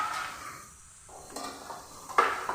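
Chopped onion dropped into hot oil in a pan while ridge gourd and potato cook: soft scraping and sizzling that dips into near quiet, then a louder crackling sizzle at close range.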